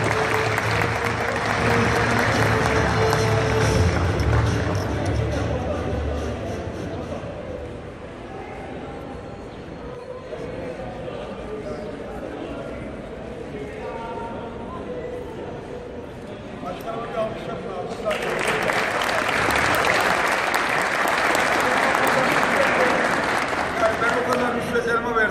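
Applause from an audience greeting the mayor of Büyükkabaca at an award ceremony, loud sustained clapping that fades mid-way and swells again near the end, with a crowd murmur underneath.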